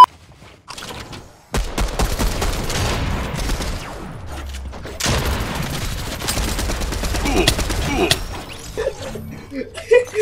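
Rapid bursts of machine pistol fire in Fortnite Battle Royale crackle in dense sharp volleys, with a pause between bursts and crashing impacts mixed in, all loud and close.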